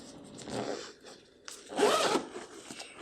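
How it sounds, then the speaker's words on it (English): A zipper runs along the weather cover of a Lowepro Whistler AW 350 camera bag, giving close, rasping strokes in a few uneven pulls with brief pauses, ending in a sharp click. "it got a zipper, just zip it"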